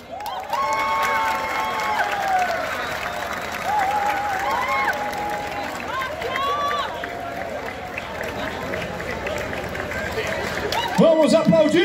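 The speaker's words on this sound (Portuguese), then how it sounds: "Vamos aplaudir!" A crowd at an honorary ceremony in Penedo, Alagoas applauds and cheers continuously, dense clapping with shouts and whistles, joined by a nearby voice and a louder burst near the end.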